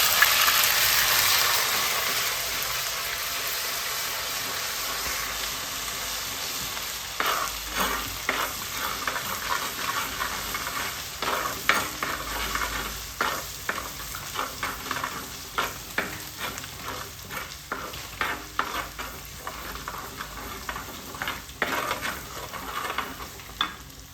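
A tablespoon of ginger-garlic paste fries in hot oil with broken dried chillies for a cabbage, carrot and mango roast. A steady close sizzle runs throughout, with repeated scraping stirs growing busier toward the end, and no voices.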